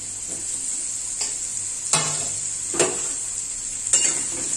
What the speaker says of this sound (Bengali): এখন এর মধ্যে ঝিঙে গুলো দিয়ে দিচ্ছি